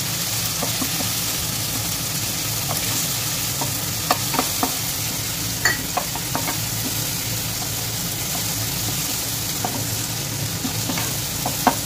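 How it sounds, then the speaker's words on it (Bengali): Ginger-onion paste and onions fry in a pan for a raw mango chicken curry, a steady close sizzle broken by scattered clicks and scrapes of a spoon stirring throughout, with no one talking. "এবার আমি বাকি আদা পেঁয়াজের পেস্টটা দিয়ে দেবো। এবার এর সাথে ভালোভাবে নেড়ে একটু কষিয়ে নেব।"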